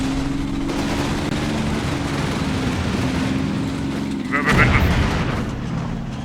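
Gunfire and artillery from the tank combat game Combat Mission: Red Thunder form a dense continuous rumble of battle with an engine-like drone underneath and a sharper burst of fire near the end.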